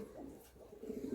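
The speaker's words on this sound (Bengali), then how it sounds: "কালো লাইনের পায়রা।" A black line pigeon from Howrah coos softly in a low, murmuring burst that repeats twice, faint and close, with no voices over it.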